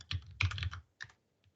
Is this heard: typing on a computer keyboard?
yes